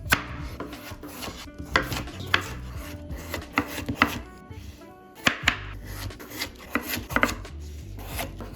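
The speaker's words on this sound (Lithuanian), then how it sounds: "Taigi mums dabar reikia supjaustyti gabalais bulves." Potatoes chopped into pieces with a knife on a board for spicy potato noodles, close irregular knocks and taps in quick clusters, with no talking over them.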